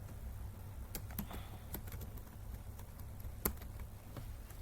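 Keys clatter on a computer keyboard while code for an HTML footer file in a PHP admin dashboard is typed, with scattered irregular clicks and one sharper keystroke, close and fairly quiet over a steady low hum.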